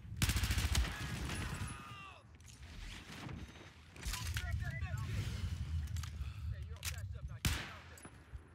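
Sharp bursts of gunfire crack out several times, including a rapid volley at the start, amid quieter mechanical clicks and shuffling.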